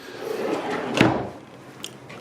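A drawer in a hotel room slides open with a soft rumbling scrape ending in a sharp bump, followed by a faint click, heard close and alone.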